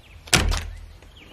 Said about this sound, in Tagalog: Soledad, ilang beses ba akong kakatok bago ka magbukas ng pintuan, ha?